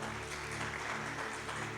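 Applause from a church congregation during a sermon, a steady fairly distant patter of clapping with a low hum underneath, sustained throughout.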